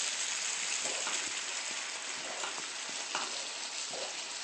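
Cheese sauce cooks in a pan while a spoon stirs it, giving a soft, continuous bubbling sizzle with faint scraping taps, quiet and close, with no talk.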